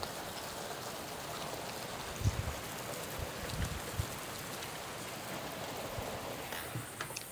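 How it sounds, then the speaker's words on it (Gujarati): Heavy overnight rain falls outside, a faint, continuous pattering hiss with a few soft drips and thumps, heard from indoors with no talk. "બહાર તો આખી રાતનો વરસાદ ચાલુ હો, જબ્બર વરસાદ પડ્યો"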